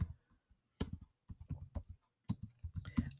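Quick clusters of keystrokes as a sentence is typed on a computer keyboard, clicking close and crisp in short bursts separated by brief pauses, with no talking.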